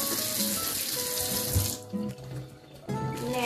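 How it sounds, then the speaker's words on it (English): Hands are washed under a running kitchen tap, a loud, close, steady hiss of water that briefly drops off and then gushes again. "I'm washing my hands right now."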